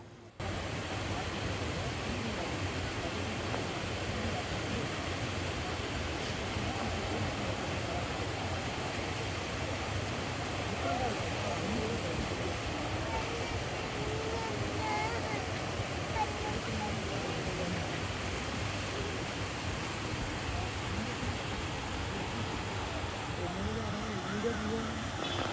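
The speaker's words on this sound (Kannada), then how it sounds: "ನೋಡಿ ಇದೇ ವಾಟರ್ ಫಾಲ್ಸು" Pykara waterfall in summer, with low water, gives off a steady, even rush of falling water that continues without a break at moderate distance. A voice may be faintly present under it.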